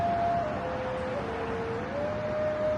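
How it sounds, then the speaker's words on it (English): A siren wails steadily in the distance, its pitch stepping down and then back up over a constant rumble of city noise. "you're gonna hear sirens all the time"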